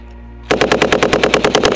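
Close, loud machine gun fire in a combat setting, a sustained rapid burst of about a dozen sharp evenly spaced shots that starts abruptly after a brief quiet moment.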